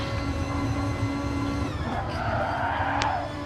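Tires squealing under late, hard braking on a tough circuit in a racing video game, a steady screeching whine over the engine drone, fairly faint and continuous.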